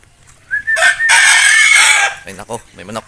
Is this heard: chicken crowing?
yes